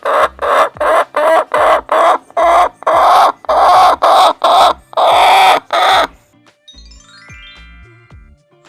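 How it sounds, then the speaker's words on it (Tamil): Hen clucking, a rapid, evenly spaced series of about a dozen loud, close clucks that builds into a sustained cackle, then stops abruptly, leaving near silence. "கோழி கொக்கரிக்கும்."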